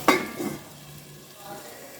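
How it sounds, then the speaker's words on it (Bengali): Potato pieces lightly frying in a pan. A single stir clatters at the start, then a faint, steady sizzle continues up close. "আলুগুলো একটু হালকা ভেজে নেব"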